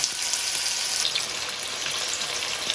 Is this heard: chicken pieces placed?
yes